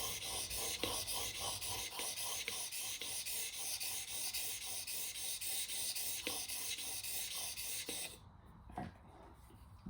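Knife sharpened on a whetstone at a 10-degree angle, rapid rhythmic gritty rubbing strokes repeating steadily for several seconds before stopping, close and moderately quiet.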